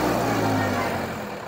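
A Deutz Fahr Profiline 80HP 4WD 2022 tractor engine runs at a low, steady hum close by, fading slightly toward the end.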